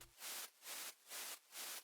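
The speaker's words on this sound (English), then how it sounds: "and some white noise." Quiet white noise layer in a beat, rising and falling in four soft swelling pulses on a steady rhythm, kept faint in the background.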